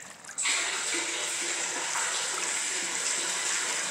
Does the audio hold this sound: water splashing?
yes